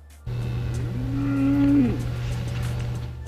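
Dairy cattle outdoors give a single long, clear moo that rises and falls, over a steady low engine hum.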